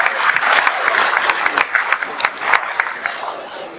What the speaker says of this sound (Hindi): मैं आप लोगों की गर्मामयी दो सीले तालियों के बीच में मैं बुलाने जा रहा हूँ अश्विनी सिखवाल जी।